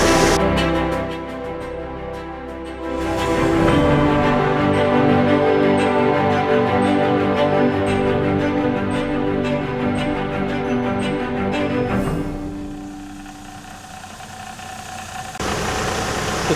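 A 1997 Chevrolet S10 pickup rumbles along on a test drive after a steering repair, its engine droning steadily and loud from inside the cab, with a brief shift in tone before it settles back into a steady hum.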